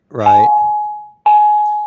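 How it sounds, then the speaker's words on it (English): A school bell chimes as students arrive: two loud, sustained electronic tones, the second starting just after the first fades, with no talking over them. "Hey, Mike, that's the magic bell"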